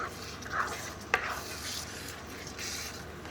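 Cumin chicken sizzling and being stirred in a pan over high heat, a steady frying hiss with a few sharp utensil scrapes against the pan.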